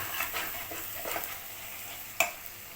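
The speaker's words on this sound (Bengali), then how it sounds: "মশলাটা তো আপনি কষায় নেবেন ভেজে নেবেন তেলের মধ্যে" Spices fry in hot oil in a pan on a low flame while tuna curry is being cooked, giving a steady close sizzle with a few stirring scrapes and one sharp clink of utensil on metal.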